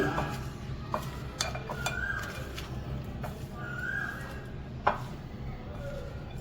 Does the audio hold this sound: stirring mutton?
yes